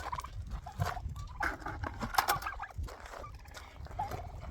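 Turkeys gobble and chatter nearby in irregular bursts, with rustling and shuffling noises outdoors.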